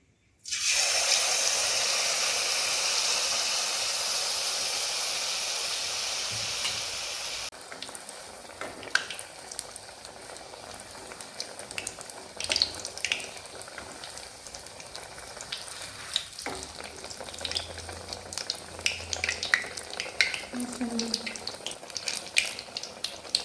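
Banana malpua batter fries in a mix of oil and ghee, giving a strong, even sizzle at first that drops to a quieter, patchier crackle with scattered clinks and faint background voices.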